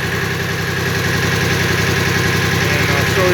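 A Farm Pro 25 hp diesel tractor with four-wheel drive and a loader idles close by, giving a loud, steady, rough mechanical chug that continues without a break under some light talking.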